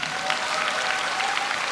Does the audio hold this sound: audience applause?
yes